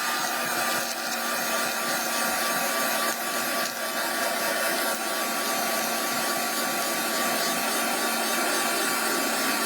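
Hair dryer blowing on a painted base for reverse decoupage, a loud continuous whirring hiss held steady close by without talk.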